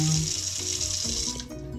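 Hot water runs steadily from a tap in a tiny home's small hotel-style room, a constant close hiss alongside a low mechanical hum that fades near the end.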